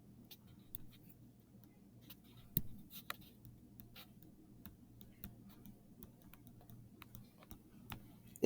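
Marker or pen writing on a board during a math lesson on multiplication and division rules, heard as faint, quiet scratchy strokes and light ticks over a low room hum, with no talking.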